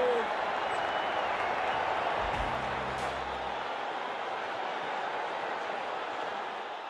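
A stadium crowd in the WCC3 cricket video game applauds and roars steadily, a dense, continuous wash of clapping and cheering that fades slightly toward the end, with a brief low thump partway through.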